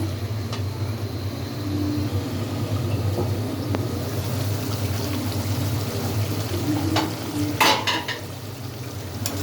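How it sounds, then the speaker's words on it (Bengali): Potatoes being sautéed and stirred in a pan, heard as a low, continuous sizzle with soft scraping and a few sharper clinks of a utensil near the end, up close with no talking. "আলুটা দিয়ে ভালোভাবে কষিয়ে নেব"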